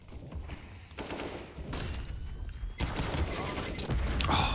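Repeated gunfire in CS:GO during a Gamers Without Borders 2023 North American match, rapid bursts and single shots from a Mac-10 and rifles, loud and continuous under a caster's excited commentary.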